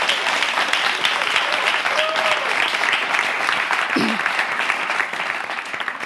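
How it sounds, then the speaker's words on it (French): A studio audience applauds at a television show semi-final, with dense, steady clapping filling the whole stretch and easing slightly at the end. "Applaudissements."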